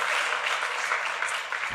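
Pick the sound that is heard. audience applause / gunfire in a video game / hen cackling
audience applause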